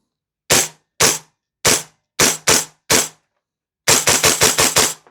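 An EMG CYMA Noveske N4 airsoft rifle running on propane fires BBs, six sharp single shots spaced apart, then a fast string of about seven rapid shots, loud and close.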